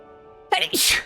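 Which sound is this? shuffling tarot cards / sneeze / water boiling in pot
sneeze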